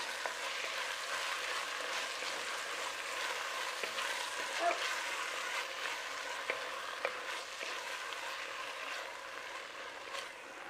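Green chilies fry in a pan with a steady, close sizzle and crackle while they are stirred, with faint scraping clicks scattered through the hiss and no talking.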